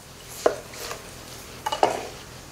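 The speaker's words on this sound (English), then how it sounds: "You can cut it straight in half." A large onion being cut in half with a knife on a board during Thanksgiving stuffing prep: a few sharp, close knocks and clacks with quiet gaps between.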